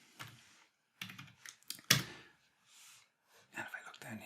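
Numbers typed on a computer keyboard, a few brief clusters of close key clicks separated by short pauses, faint and alone.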